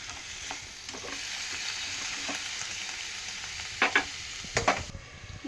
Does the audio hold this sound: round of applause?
no